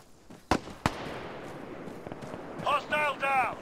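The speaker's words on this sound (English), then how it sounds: "I still hear the mortars" Mortar fire in ArmA 3 combat: two sharp booms near the start over a rumbling battlefield background, followed by voices talking over the din.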